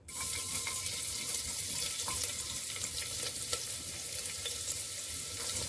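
Chopped onion sizzles in half a ladle of peanut oil heated in a pressure cooker for tempering, a steady crackling fry with scattered pops, close and alone.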